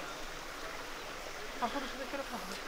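A small mountain river runs beside a walking trail, giving a steady, even rush of flowing water throughout, with a few faint voices surfacing briefly near the end.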